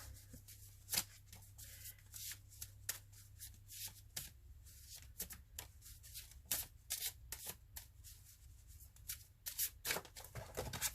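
Repeated card shuffling, quick riffles and soft flutters in irregular bursts, close and fairly quiet, with no voices.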